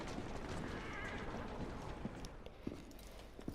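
A horse in Assassin's Creed Syndicate whinnies faintly amid steady background noise, with a few soft hoof clops toward the end.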